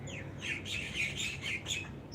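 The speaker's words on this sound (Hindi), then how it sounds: "इतनी पक्षियों की मधुर आवाज़" Birds chirping and tweeting outdoors in a cool, calm morning setting, a string of quick bright calls at a moderate distance, fairly faint over soft background noise.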